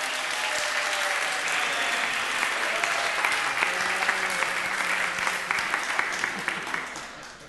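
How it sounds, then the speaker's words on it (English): A congregation at a church service claps in a sustained, full round of applause that fills the room and tapers off toward the end, with a faint voice beneath. "Just give him a round of applause."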